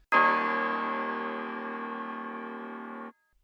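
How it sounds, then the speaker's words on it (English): A single sustained bell tone from a music beat melody, ringing bright and steady for about three seconds before cutting off cleanly, heard alone. "the only thing being kept from the melody before was the bell sound"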